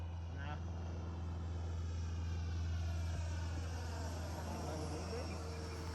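A Fly Fans 64mm L-39 RC jet passes overhead, giving a steady, even whooshing drone that holds at a constant level for several seconds without clear rise or fall.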